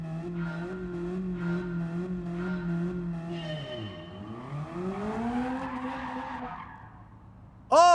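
A Mazda MX-5 in the racing game Gran Turismo spins a donut, its steady engine drone dipping and rising as squealing tires skid, then cutting to a brief sharp burst at the end.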